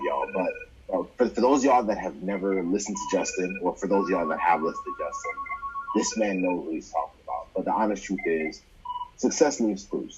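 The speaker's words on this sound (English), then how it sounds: "excuse the phone call in the background" Faint electronic telephone tones from a phone call sit in the background, steady beeps half-buried beneath continuous conversational podcast talk.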